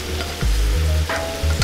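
Octopus legs sizzle close by in a pan of butter, olive oil, garlic and diced onions. A steady frying hiss runs underneath, with low stirring thumps and shifts in between and no talk.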